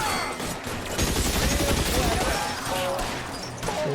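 Gunfire from the video game L.A. Noire, a dense burst of shots filling most of the clip with steady loud crackle, while voices talk over it.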